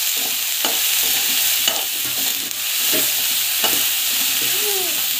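Ingredients for puffed rice upma are stir-fried in a pan, giving a loud, steady sizzle with occasional scraping strokes of the spoon, close up and with no talking.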